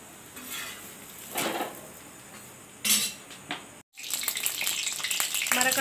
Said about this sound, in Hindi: हमारा कढ़ाई तेल गर्म हो चुका है